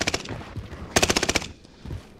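Rapid automatic gunfire in a video game, two loud bursts of evenly spaced shots with a short gap between them, close and punchy with no voices over them.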